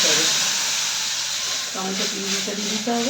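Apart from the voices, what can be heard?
tomato puree added to hot pan, sizzling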